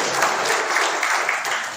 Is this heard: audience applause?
yes